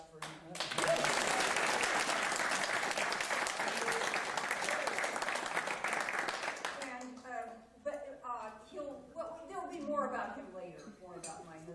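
An audience at a live new-music concert applauds loudly and densely for about seven seconds, then the clapping fades as a voice begins talking over the dying applause.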